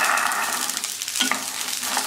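Green peas and green chili pieces fry in hot oil, giving a steady, close sizzle with soft crackles throughout and no talking.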